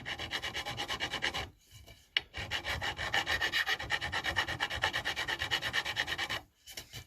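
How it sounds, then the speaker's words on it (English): A hand file rasps steadily back and forth across a carved oak guitar fretboard, close and continuous in rhythmic strokes, pausing briefly twice between passes. "I'm just going to take the file,"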